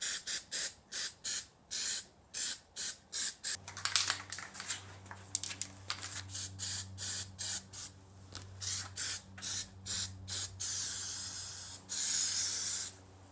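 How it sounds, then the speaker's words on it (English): Repeated short bursts of aerosol spray primer hissing in a regular rhythm, then a longer continuous spray at the end, close by, painting the underside of a small engine's gas tank. "just flip the gas tank over and spray paint the bottom of that"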